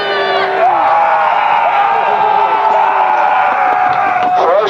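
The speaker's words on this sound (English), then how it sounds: "give the Saxons a cheer" A large outdoor crowd at a 1066 Norman and Saxon battle re-enactment cheers and whoops for the Saxons, loud and sustained, with shouts and some clapping mixed into the roar.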